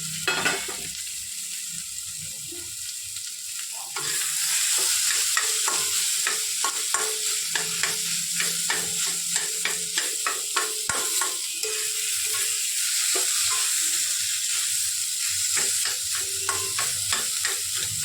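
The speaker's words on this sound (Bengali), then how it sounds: "আলু সেদ্ধটা দিয়ে ভালো করে কষিয়ে নিতে হবে যত আলুটা বেশি ভাজা ভাজা করে কষানো যাবে তত টেস্টটা ভালো আসবে" Boiled potatoes fry with a loud, continuous sizzle in a pan while a spatula stirs them, scraping and tapping in a steady rhythm throughout.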